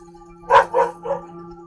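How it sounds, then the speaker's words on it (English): A dog in a woodturning workshop gives three quick barks, fairly close, over a faint steady machine hum. "Excuse the mental dog."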